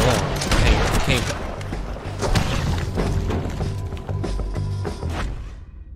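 Gunfire in Red Dead Redemption 2, a dense run of loud sharp shots and impacts over game ambience, with someone talking over it before it fades to silence.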